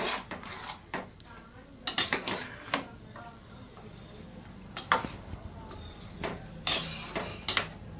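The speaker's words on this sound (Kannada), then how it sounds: "ಈಗ ಒಗ್ಗರಣೆಗೆಲ್ಲ ಮಿಕ್ಸ್ ಆಗೋಗಿ ಅಕ್ಕಿನೆಲ್ಲ ಮಿಕ್ಸ್ ಮಾಡ್ಕೊಳ್ಳೋಣ." Sona masoori rice being stirred into hot tempering in a metal pot for chicken pulao, with a spoon scraping and clinking against the sides in irregular bursts, close and fairly quiet.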